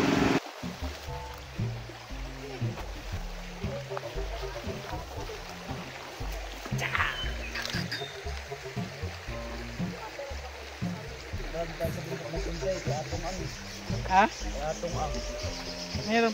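A river stream flows continuously in an outdoor rural setting, a steady watery rush mixed with footsteps and handling noise, while people talk over it.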